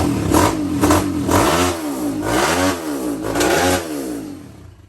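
A four-stroke motorcycle engine revs loud and close, climbing and falling through repeated throttle blips in a steady wavering rhythm before easing off at the end. No one speaks.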